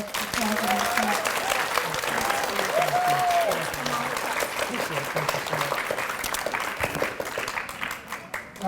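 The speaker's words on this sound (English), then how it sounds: "So let's give him a round of applause for that" An audience at an elementary school D.A.R.E. graduation ceremony gives a sustained round of applause, dense steady clapping that fills the room and slowly thins toward the end, with voices mixed in.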